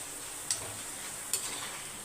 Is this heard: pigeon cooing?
no